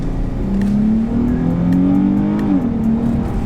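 A Dodge Challenger engine hums and rises in pitch as it accelerates in sport mode, with a gear-like shift and steady road noise underneath.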